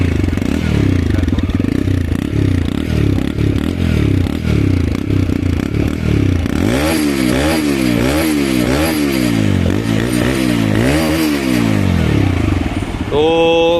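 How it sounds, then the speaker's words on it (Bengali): A TVS Raider 125 motorcycle engine revs repeatedly, climbing and falling in pitch in a series of sharp throttle blips after a steady idle, loud and close, ending with a brief clatter. "ভালো স্পোর্ট বাইকের মতন তুমি এখানে সাউন্ড পাবে"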